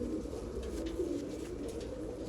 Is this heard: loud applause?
no